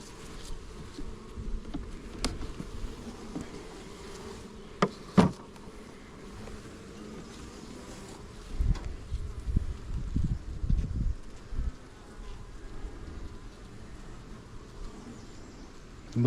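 Honey bees buzz steadily around an open hive during an inspection, a soft close drone with brief louder passes of single bees and faint rustling as frames are handled.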